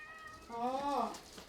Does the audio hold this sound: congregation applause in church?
no